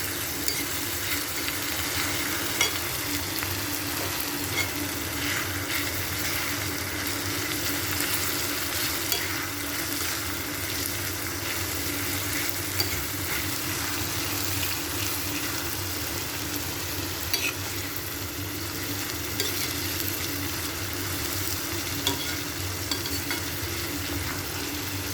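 Crab roast with ginger and garlic sizzling steadily in a pan while being stirred, a continuous close frying hiss with occasional soft scrapes, no talking.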